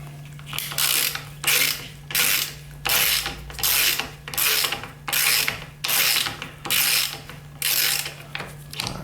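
Knobs from a screen printer head are scrubbed with Purple Power cleaner, a close, loud rhythmic rubbing in about ten steady back-and-forth bursts with brief pauses between, alone without talk.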